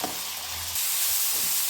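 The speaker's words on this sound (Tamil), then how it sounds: "இப்போ இதையும் நல்லா ஃப்ரை பண்ணிடலாங்க" Finely chopped large tomato frying with onions in a pan for Tamil-style potato fry, a loud bright sizzle that swells midway, with brief stirring rustles.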